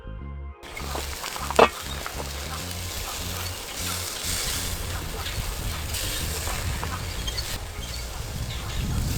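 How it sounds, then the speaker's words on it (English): Beef and shrimp kebabs cook over a live fire on a small grill, giving off a steady, close sizzle and crackle that runs unbroken throughout, with one brief sharper pop near the start. "Now we're moving into our beef and shrimp kebabs, using the same fire and the same setup."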